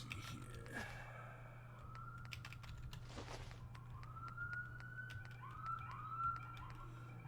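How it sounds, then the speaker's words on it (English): Emergency sirens pass at a distance, their faint wailing tones rising and sliding over steady background hum, alone with no talk. "I'm gonna mute as the sirens go past."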